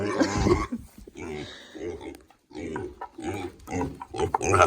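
A pig that has broken out of its pen grunts and snorts in repeated rough bursts close by, with pauses between them and a person talking intermittently.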